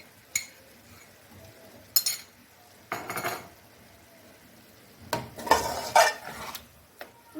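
Spoon clinks and scrapes against a metal pot while yogurt gravy is mixed into spices for Punjabi biryani, several separate bursts of clatter between quiet stretches, no talking.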